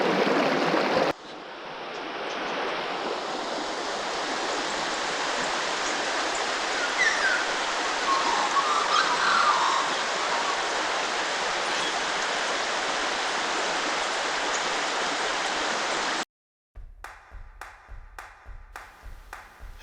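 A steady, full rush of the Dargo River flows beside the Italian Flat camping area in Victoria's alpine high country, continuous and close, before it cuts off near the end.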